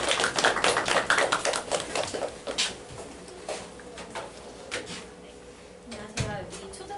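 Audience applause welcoming a vice principal at a spring-semester program briefing for elementary and first-year middle school students, with dense clapping that fades after a few seconds into scattered claps and light room noise.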